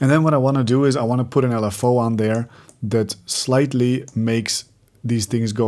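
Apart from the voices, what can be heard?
None of the usual background noises is heard.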